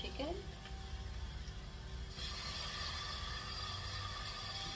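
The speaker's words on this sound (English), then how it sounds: "and now we can add the chicken." Marinated five-spice chicken hits a hot pan and a bright sizzle swells up and holds steady, with a faint clatter at the start.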